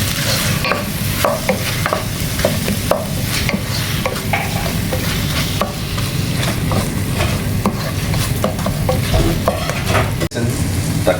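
Garlic-ginger paste being stirred into frying masala with tomato for vegetable pulao, loud close sizzling beneath rapid, constant spatula scraping and tapping against the pan, no speech.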